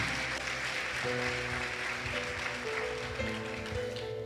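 A church congregation applauds steadily and loudly throughout, with music or a sustained keyboard tone running underneath the clapping.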